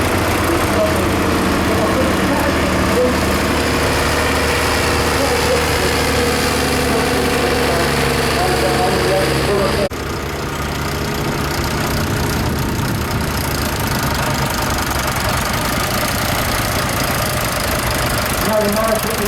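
Tractors run in the arena during the morning parade at a spring fair, making a loud, continuous rumble of idling and knocking engines that holds steady throughout, with a slight change partway through.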